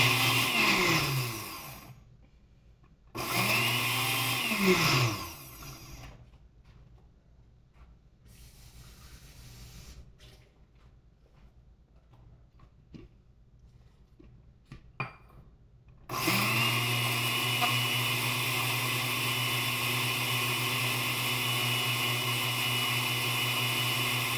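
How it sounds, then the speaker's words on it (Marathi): A kitchen mixer grinder grinds masala with salt for Konkani bombil bhujane, running in short loud bursts that whine up and down, then a quieter stretch of handling sounds before a long steady grind. "आणि हे सगळं आपण आता छानपैकी वाटून घ्यायचं"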